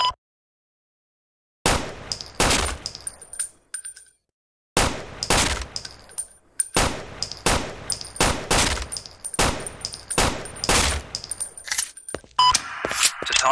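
Gunfire in the tactical shooter game Sierra 7: loud close bursts of rapid shots with sharp metallic clinks, broken up by brief silent gaps, firing in clusters through the rest of the stretch.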